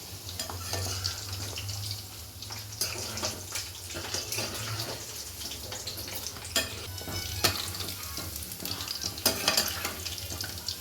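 Badusha dough fries in a pan of hot oil with a steady, dense sizzle that runs throughout, broken by occasional small scrapes and clinks close by.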